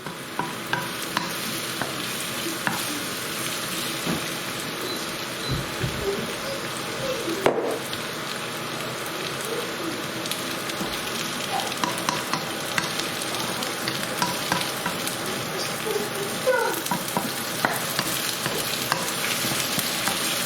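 Peppers frying in a hot pan and being stirred, a steady close sizzle broken by frequent clattering, scraping stirs throughout, with no one speaking.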